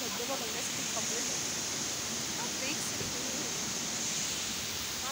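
A waterfall at Matheran gives off a steady, broad rushing roar that holds constant throughout, with faint voices in the background.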